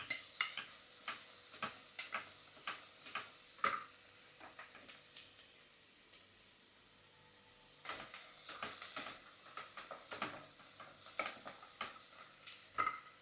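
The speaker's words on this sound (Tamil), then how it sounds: "இப்போ இந்த வெள்ளைப்பூண்டு சேர்த்துக்கலாம். இதையும் போட்டு 1 நிமிஷம் வதக்கலாம்," Garlic sautéing in a pan for drumstick leaf soup gives a faint, soft sizzle broken by repeated light spatula taps and scrapes, growing busier and louder in the second half.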